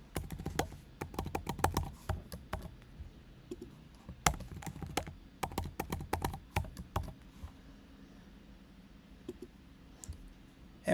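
A password being typed on a computer keyboard: rapid, irregular clicking keystrokes up close, in quick bursts that thin out toward the end, with no talking.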